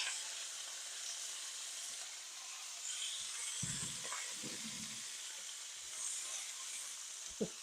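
Green beans fry in hot peanut oil for pork and green beans, a steady broadband sizzle throughout with a few soft scrapes and clicks of stirring, close and moderately loud.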